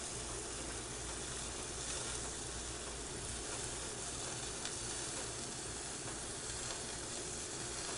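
A buttered sandwich sizzles on a grill, giving a steady, soft frying hiss throughout with no talking.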